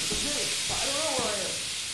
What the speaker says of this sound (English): There's a bunch of steam.